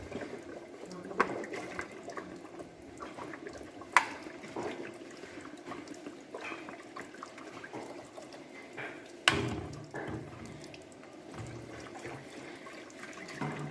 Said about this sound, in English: Wash the rice and drop the water like this.